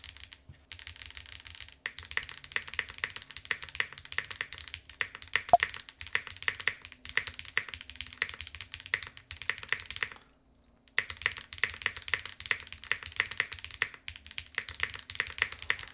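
Stock switches clack under GMK keycaps on an RO75 75% keyboard with standard plate foam. Fast, continuous, close-up typing runs throughout, with one brief pause partway through.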